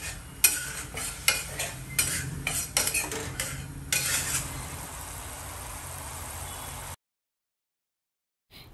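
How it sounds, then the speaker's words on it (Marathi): Thin masala batter for dabeli is stirred and fried in oil in a pan, with a run of sharp metal spoon scrapes and clinks over a steady close sizzle that fades to continuous frying, then briefly cuts out. "हा जो मसाला आहे तो थोडंसं पाणी टाकून पातळ बॅटर करून घेते आणि तेलामध्ये थोडंसं परतून घेते"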